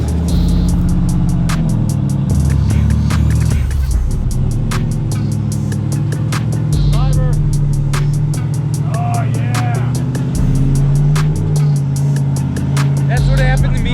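A rock crawler grinds over an obstacle on a canyon trail in Colorado, its engine droning and revving loudly and continuously while tires and rocks give scattered clicks and scrapes and people talk over it.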